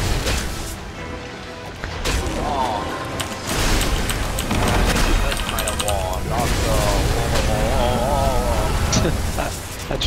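A sorcerer-themed video game throws out dense, crashing blasts and rapid rattling impacts that run almost nonstop, loud and busy, while a player talks over the action.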